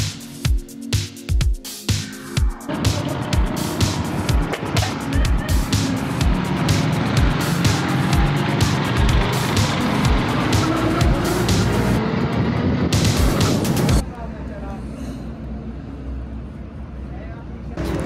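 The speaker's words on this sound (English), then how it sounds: "See, when I accelerate now, it's just running free." A car engine revs up and runs freely at steady high speed, a loud continuous roar with rushing noise, briefly tapering off near the end.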